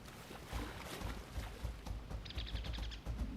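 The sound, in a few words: birds chirping in video game ARK Ragnarok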